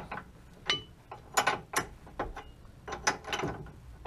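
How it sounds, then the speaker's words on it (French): A bolt is being unscrewed on the suspension of a Renault Clio 3 during a short-spring fitting, giving a series of close, irregular metallic ratcheting clicks and creaks. "Là, ça se dévisse bien."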